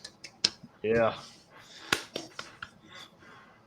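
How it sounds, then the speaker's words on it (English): A few scattered, sparse claps ring out, sharp and isolated rather than sustained applause, with people talking briefly between them. "That sounded like a pity clap."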